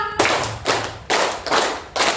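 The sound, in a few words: group clapping in rhythm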